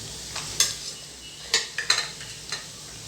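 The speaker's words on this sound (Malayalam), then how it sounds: "നന്നായി മിക്സ് ചെയ്ത് കൊടുക്കാം" A utensil stirs and scrapes through a filling for bread egg puffs in a frying pan, a few sharp clinks against the pan over a steady, soft sizzle.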